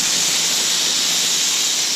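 Flank steak sears on a Camp Chef FTG600 griddle, producing a loud, steady, close hiss of sizzling meat that holds constant throughout.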